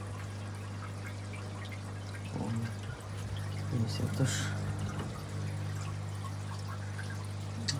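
Water runs steadily from a tap into an aquarium as a continuous trickling pour, with a short exclamation from a person partway through.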